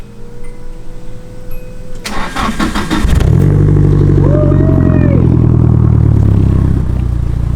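A supercharged BMW E36 engine cranks briefly with a few sharp starter bursts, then catches and settles into a loud, steady idle close by.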